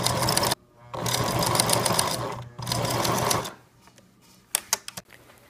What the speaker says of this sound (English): we're going to run a line of stitching across the side of the mask. I like to use zigzag